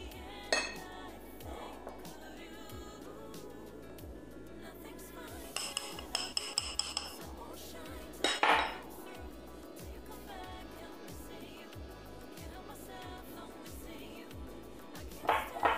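A utensil scrapes and clinks against a bowl while tapioca flour cassava cake batter is mixed. The strokes are rhythmic and close, with a few sharper clinks and knocks.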